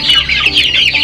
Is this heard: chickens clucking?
yes